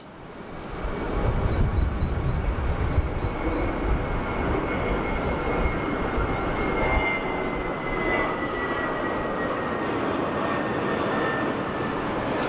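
A fixed-wing airliner roars past at Sydney Airport, its engines loud and sustained, with a steady broadband rumble that holds for several seconds and then gradually eases.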